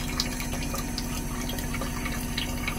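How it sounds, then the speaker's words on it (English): Water bleeds through the bypass of a SeaWater Pro automatic pressure regulator, a loud, steady rushing flow with a low mechanical hum beneath it and small bright drips and spatters, close and uninterrupted. "you can see how the patented bypass is allowing all the water to bleed right through until the"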